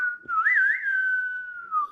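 A single person whistles a short tune, one sustained melodic line with a few wavering turns, close and clear with no talking over it.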